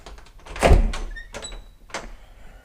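A sliding closet door with peeling paint in a house bedroom rolls open with a solid thunk and scraping rumble, then a couple of lighter knocks and rattles trail off in a quiet room.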